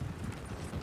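Horse hooves clip-clop in Red Dead Redemption 2, a steady low thudding rhythm of several footfalls close by, running continuously with no speech over it.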